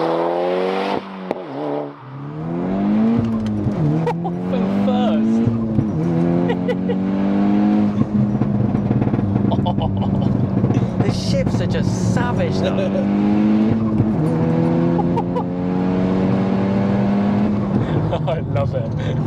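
A manual MK6 Golf R tuned to 470bhp accelerates hard through the gears, its loud engine and exhaust rising and falling with each shift, heard from inside with people talking over it.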